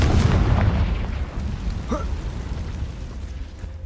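A Confringo fire spell blast in Hogwarts Legacy, heard as a loud, dense booming burst at the start that rumbles on as a sustained roar with a brief whooshing streak midway.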